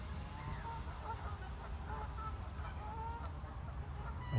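Waterfowl on a lake honk and call faintly in the distance, scattered cries over a steady low background rumble.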